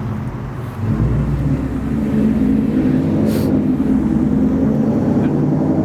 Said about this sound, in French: Une grosse voiture là.